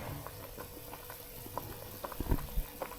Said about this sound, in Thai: ปล่อยให้มันเดือดอย่างนี้นะครับสักหนึ่งนาทีสองนาทีนะ